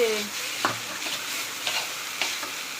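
Maggi noodles frying in a pan with Maggi masala as they are stirred, a soft steady sizzle broken by several quick scraping strokes of the spoon.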